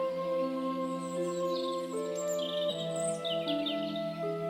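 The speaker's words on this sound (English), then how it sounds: "You can hear birds singing to each other." Several birds sing and chirp back and forth in a calm setting, clear whistled phrases overlapping steadily at moderate volume with no talking.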